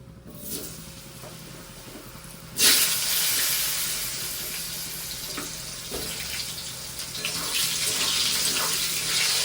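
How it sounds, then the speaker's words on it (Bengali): Potatoes go into a pan of hot oil with a dried red chilli for a light rohu fish curry; after a quiet moment a loud hiss bursts out and settles into a steady, close sizzle with a few light clinks. "আমি এবার আলুগুলো দিয়ে দেব। আলুগুলো ভাজা হবে আস্তে আস্তে।"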